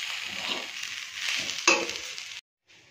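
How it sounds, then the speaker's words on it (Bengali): Rice with turmeric fries in a pan for khichuri, giving a steady close sizzle with stirring scrapes and one sharp metallic clink before it cuts off abruptly. "এবার এর মধ্যে একটু হলুদ দিলাম, এবার চালটা একটু ভেজে নেব।"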